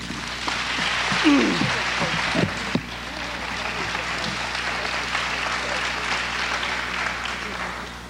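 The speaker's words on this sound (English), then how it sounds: "once again, a big round of applause, please" Applause from an audience at a May 1989 Designer Network International gathering, a steady broadband patter of many hands clapping throughout, with brief voice-like tones and bumps near the start.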